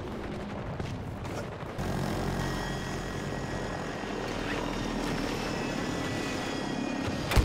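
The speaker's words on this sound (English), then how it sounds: "Hostile aircraft! Southwest!" A helicopter in a first-person shooter video game, a steady rotor and engine drone with a few sharp cracks like gunfire, no voices.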